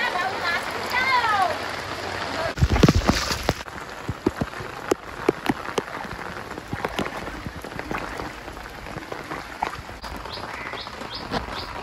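Heavy rain patters steadily on surfaces around an outdoor cooking spot beside a river, with sharp drip impacts, faint bird chirps and people talking over the downpour.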